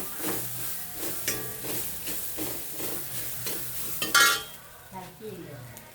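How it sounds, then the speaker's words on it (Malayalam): Ground mixture being dry-roasted in a pan before any oil is added, with a soft continuous sizzle and rhythmic spoon scraping and stirring up close. "ഇത് നമുക്ക് വറുത്തെടുക്കാം"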